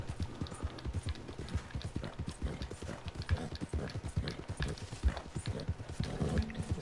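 Hooves of an Arabian horse in a PS4 video game, a steady run of rhythmic clip-clopping footfalls, moderately loud and continuous over a soft background.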